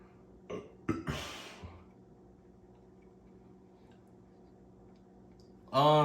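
Someone burps after drinking Pepsi Twist Lemon soda: a few short, close throaty burps in the first two seconds, then near silence, before a loud voice starts at the end.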